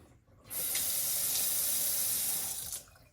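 Water gushes from a Delta single handle faucet into a sink, a loud steady hiss that starts abruptly and cuts off after a couple of seconds, no talk.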